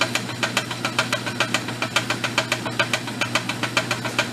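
A Kohler engine with a welded crankshaft spins up and runs with an even, rapid knocking pulse over a low hum, close and steady, with no talk.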